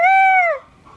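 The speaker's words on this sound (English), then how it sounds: "That's just what a rooster has to say every morning." A rooster crows once, loud and close, a bright harmonic call lasting about half a second before trailing off into quiet.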